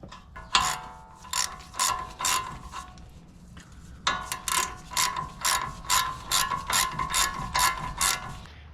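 A ratchet tightening the nut on a tie rod, two runs of rapid rhythmic clicking strokes separated by a short pause, close and clear with no talking.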